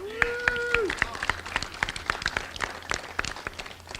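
An audience at a county economic development event claps in scattered, uneven bursts, with sharp individual claps close by over a murmuring crowd and a voice speaking.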